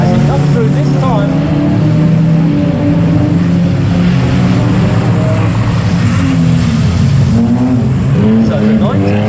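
Race cars at a circuit sweep past the grandstand near the finish line, engines roaring loud and continuous with rising and falling pitch as they go by, under a commentator's steady race talk.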